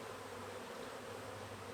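Worker honey bees drone around an open hive during an inspection, a soft, continuous buzz hanging low and faint without any voices.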